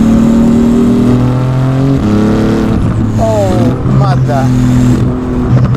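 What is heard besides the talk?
Porsche GT2 RS exhaust revving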